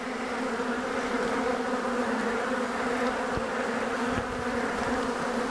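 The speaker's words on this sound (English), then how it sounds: "A ton of bees down here" A swarm of honey bees at a hive keeps up a loud, dense, unbroken buzz that sits close and fills the whole stretch.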